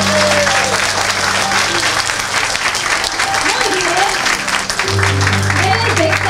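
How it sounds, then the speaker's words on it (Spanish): Dense audience applause fills the whole stretch at an event in Lima honoring an engineer, loud and steady, with some voices and a low hum mixed in. "un aplauso."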